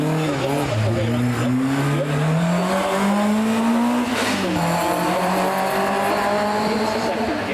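A rally car at the Prescott hill climb holds a loud, continuous engine note that climbs steadily, then briefly drops and dips as the driver downshifts into first gear before the revs build again.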